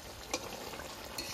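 Hilsa fish simmering in mustard sauce is stirred briefly, a soft scrape of the spoon over a low bubbling sizzle, with two sharper clinks against the pan, close and quiet.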